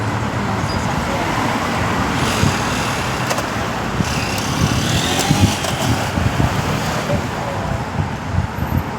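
Road traffic rushes past a roadside crossing at dusk in a steady, loud roar, with individual vehicles swelling and fading as they pass close by.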